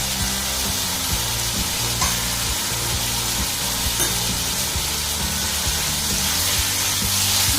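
Spice paste of ground onion and ginger-garlic paste frying in a pan, giving a loud, continuous hissing sizzle with faint stirring underneath and no voices.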